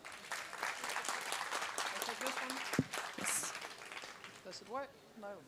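Audience applause at a youth political ideas event in Latvia, a dense crowd clapping at moderate distance with a few whoops and voices mixed in as it tapers off.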